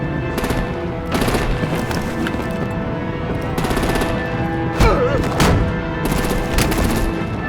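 Sustained automatic gunfire and heavy weapon bursts in a Telltale Batman game battle scene, loud and continuous with repeated rapid volleys and a few sharper booming impacts, no talk.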